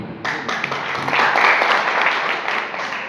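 Audience members at an IMC meeting in a hotel in Guna break into sustained applause, a dense, steady wash of many hands clapping together that swells slightly in the middle.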